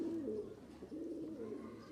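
Pigeons cooing nearby, a soft low rolling coo repeated twice in quick succession, close and alone without talk.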